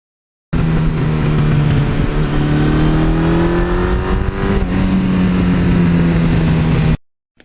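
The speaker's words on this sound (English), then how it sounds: "This one, the 86 exhaust, just a little more rumble when you back off the gas." A 1982 Suzuki GS1100E air-cooled superbike with an 86 exhaust system idles and revs close by, a loud, steady rumble that climbs in pitch, falls back off the throttle and holds for about six seconds before cutting out.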